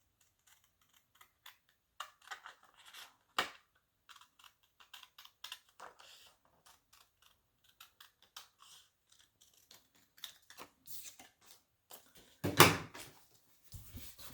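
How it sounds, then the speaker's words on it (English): Scissors snip through a paper photo in short, quiet cuts spread across the clip, with small clicks and rustles of handling paper between them and a louder cluster of snips near the end. "And then we'll go ahead and cut this."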